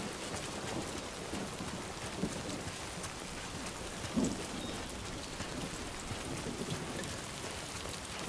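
Steady rain patters across a landscape in the video game Death Stranding 2, with a faint low rumble of distant thunder beneath the dense, even hiss; no voices.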